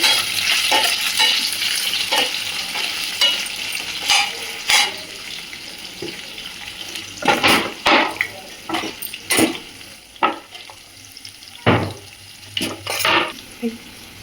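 Onions frying with green chillies in a pan, a steady sizzle under frequent clattering stirs and utensil knocks that grow busier toward the end, close by, with no one talking.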